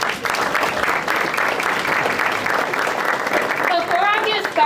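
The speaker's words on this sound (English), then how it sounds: "Can you give everybody a round of applause?" An audience at the Chester City People's Ball gala applauds in a broad, steady round of clapping. A voice comes in over the applause toward the end.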